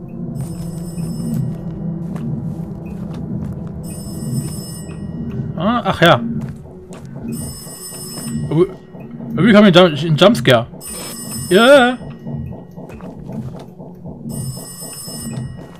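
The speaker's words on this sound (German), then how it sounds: "Da, das Telefon." An in-game telephone rings in the horror game Total Chaos, a Doom-engine mod, in short bursts of bright bell trills that repeat every few seconds over droning ambience, while someone talks through much of it.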